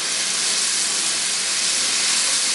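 Onions hit a hot pan in a pancetta and pea dish and sizzle with a steady, dense hiss that holds evenly throughout, close and alone.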